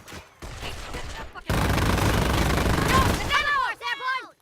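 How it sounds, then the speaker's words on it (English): Machine gun fire in the WWII strategy game Company of Heroes comes as a sustained, loud burst of rapid shots that fades out, with a voice talking under it and before it. "taking enfilade fire from that MG"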